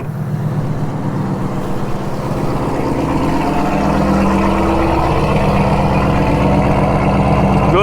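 A 2020 Chevrolet Camaro 1SS 1LE with the Track Performance Package sits idling with its V8 engine, giving a steady, loud, low rumble that stays even and grows slightly throughout.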